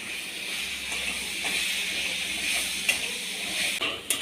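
Tomatoes for chutney sauté in a pan, giving a soft, steady sizzle with occasional stirring clicks and scrapes, moderately close with no talk over it.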